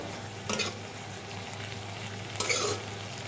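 Fiddlehead fern greens stirred in a frying pan with onion, turmeric, salt and chili, giving a steady close sizzle with two brief scraping stir strokes.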